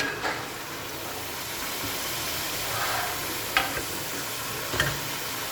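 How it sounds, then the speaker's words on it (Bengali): Spinach, potato, eggplant and beans tipped into a kadai of cooked-down masala, a steady close sizzle with a few sharp scrapes and clinks of a spoon stirring against the metal. "কেটে টাকা পালং শাক, আলু, বেগুন, সিম একসঙ্গে আমি দিয়ে দেবো কড়াইয়ের মধ্যে"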